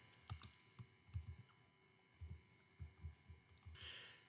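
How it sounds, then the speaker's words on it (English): Keys are tapped on a computer keyboard while a date of birth is entered into a form, a quiet run of soft irregular keystrokes over a steady low hum. "type the date of birth"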